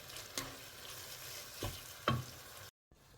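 Beef keema cooking in a pot, stirred with a few soft scraping strokes over a low, steady sizzle of frying meat, heard close and fairly quiet with no talk.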